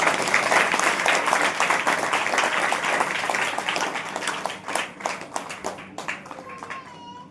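A congregation at a Saturday church meeting claps hands together in a dense, continuous wave of applause that thins into scattered claps near the end.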